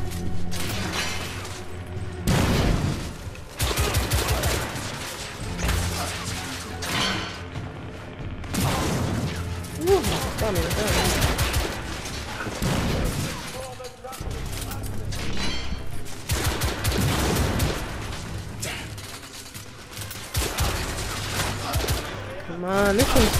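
Gunfire and shotgun blasts in the game The Order: 1886, with repeated loud shots and bursts mixed with mechanical clatter, crashes and someone talking over the action.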